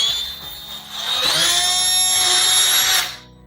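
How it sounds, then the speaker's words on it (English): Power drill boring a hole into a clamped wooden workpiece: the motor spins up, then holds a loud, steady whine as the bit cuts through, and stops abruptly near the end, close and alone with no talk. "I'm just going to drill a hole."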